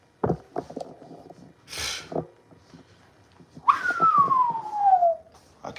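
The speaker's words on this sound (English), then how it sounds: "I can't even do that whistle right." A person whistles: a short breathy attempt first, then a clear, loud falling whistle that slides downward for over a second, with scattered soft knocks and rustles around it.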